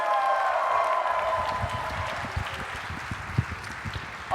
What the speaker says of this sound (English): we got to cheer super loud to bring them back on